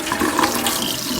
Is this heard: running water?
yes